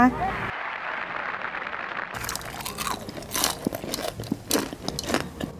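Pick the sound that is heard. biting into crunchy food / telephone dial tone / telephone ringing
biting into crunchy food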